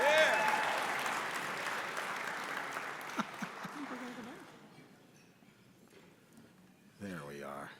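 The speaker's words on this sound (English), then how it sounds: "give her another round of applause" Audience applause for a singer at an awards-night event, a loud burst of clapping and cheering that gradually thins out over several seconds before a person starts talking.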